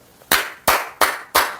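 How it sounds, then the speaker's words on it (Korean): Four sharp, evenly spaced hand claps ring out close and loud in a slow, deliberate rhythm, each with a quick decay, from a single person rather than a crowd. "박수!"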